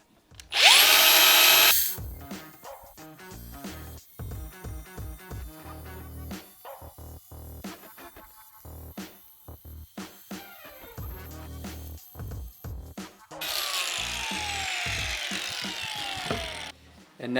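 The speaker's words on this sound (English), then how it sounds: "And now you go cut this out with the grinder." An angle grinder cuts a ceramic subway tile for a kitchen backsplash, a loud opening burst of high whine followed by choppy, intermittent cutting and handling noise, then a steady grinding run near the end.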